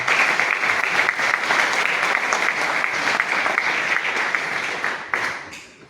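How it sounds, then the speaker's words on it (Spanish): An audience at a university history congress breaks into sustained applause for an ambassador, loud and even across the whole stretch, tapering only in the final moments with no one speaking. "el embajador Luis Mendir Canales, para quien pido un fervoroso aplauso."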